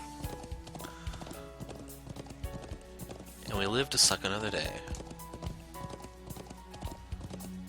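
Horse hooves clip-clop in the video game Trails of Cold Steel 3, a steady run of soft hoofbeats under game music and someone talking over the gameplay.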